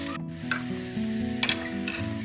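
Chopped onion sizzles in a pan for a Kerala-style beef curry, a soft, fairly quiet hiss with a few brief stirring scrapes and light clinks over a short stretch.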